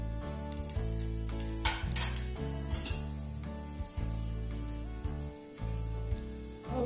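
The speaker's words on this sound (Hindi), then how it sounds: "मसाले को हल्का भूनने देंगे" Whole cinnamon, cardamom, cloves and cumin seeds frying in hot oil in a pan, a steady close sizzle with intermittent clinks and scrapes of a spoon against the cookware and no talking.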